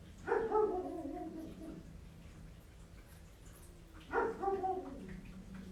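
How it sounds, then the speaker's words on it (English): A dog makes two short bursts of whimpering, whiny barks a few seconds apart, moderately near, against a quiet indoor background. "pardon for the doggy noise"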